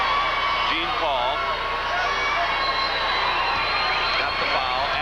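Crowd at a 1984 Illinois state championship high school basketball game in Chicago, a steady roar of voices and shouting during a free throw, with a commentator talking over it.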